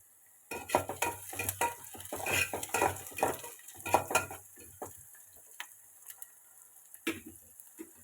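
Two onions frying in a pan and stirred with a utensil, giving clattering, scraping knocks in uneven bursts for several seconds, then a pause and a final short burst, close and fairly quiet.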